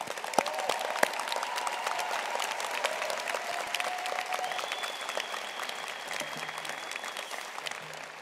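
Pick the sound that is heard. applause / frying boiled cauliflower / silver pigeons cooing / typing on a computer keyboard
applause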